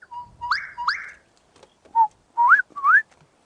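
A person whistles a rising, birdlike call in repeated two-note phrases, imitating a bird on a safari drive, fairly close and clear, with short pauses between them.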